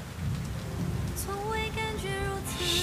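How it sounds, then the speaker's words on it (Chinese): Heavy rain pours down in a steady, dense hiss that fills the whole stretch, with soft music tones rising over it partway through. "还下这么大雨"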